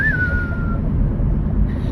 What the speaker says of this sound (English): I think of that every time I hear that whistle noise